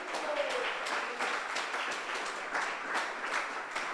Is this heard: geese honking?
no